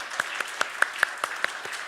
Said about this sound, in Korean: 우리 먼저 하나님께 영광의 박수를 드리겠습니다.